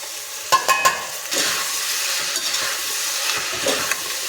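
Tomatoes fry in oil for a vegetable pulao, a steady sizzle with a few sharp clinks and scrapes of a spoon stirring the pan near the start and later on.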